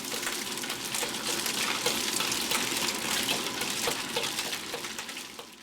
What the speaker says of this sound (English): place a handful of softened scallops and allow them to cook for about 2 minutes, stirring well all the time